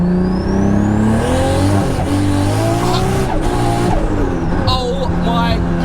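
A 1000 hp Toyota Supra rolls onto the throttle in third gear and pulls hard, its engine rising loudly in pitch from inside the cabin while a person exclaims over the roar.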